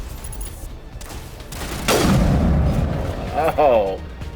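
A rocket explodes in the Mass Effect video game, a heavy boom that swells midway and rolls out under excited talking from players.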